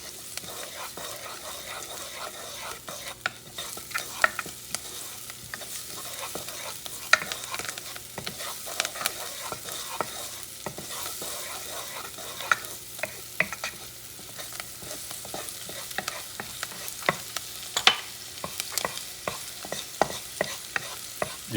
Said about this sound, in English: what you're doing now is the sofrito. You're moving it because you don't want it burned